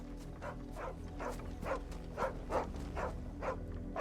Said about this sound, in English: Dude, the dog is literally right here.